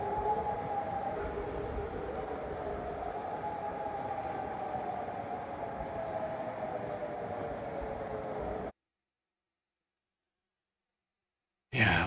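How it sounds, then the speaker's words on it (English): Air raid siren sounding across Amman, Jordan, a sustained wavering wail heard at a distance for most of the stretch before cutting out, then briefly returning at the end. "you can hear that air raid siren going on in the background"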